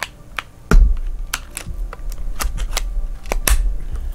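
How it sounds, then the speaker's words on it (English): A memory card is taken out of a Panasonic S1H camera: a series of sharp, close plastic clicks and snaps, with one louder click near the start and a few more spaced through the handling. "we want to take the card out"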